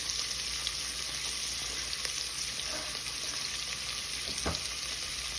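Onions sautéing in a pan for mutton kuzhambu give a steady, close sizzle and fry hiss that stays even throughout, with a few faint stirring clinks and one sharp tap near the end.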